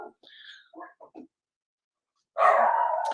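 A few short, soft yips and whimpers from a dog, a pause of silence, then one loud, sustained bark up close.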